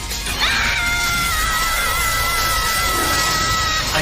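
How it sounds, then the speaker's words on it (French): A girl in an anime episode screams as loud as she can, a long, piercing, strained cry held steadily for several seconds over a dense, noisy background. "crie là-dedans aussi fort que possible"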